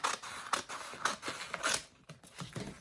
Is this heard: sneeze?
no